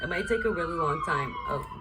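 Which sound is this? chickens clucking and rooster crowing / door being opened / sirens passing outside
sirens passing outside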